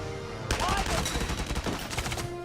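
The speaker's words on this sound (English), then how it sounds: "let's see if we can get some headshots on him" Rapid gunfire in the video game Valkyria Chronicles 4, a loud burst of repeated shots that continues for about two seconds after a quiet start, with no one speaking.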